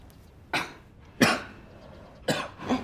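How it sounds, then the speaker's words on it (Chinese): A woman coughs three times, close and distinct, with short pauses between the harsh bursts and quiet in the background. "你怎么咳嗽了？"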